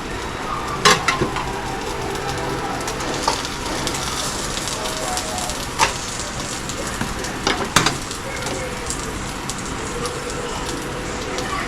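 Grilled cheese sandwich with sloppy joe filling frying in a pan, a steady close sizzle with scattered pops and sharp clicks of a spatula or pan, no voices over it.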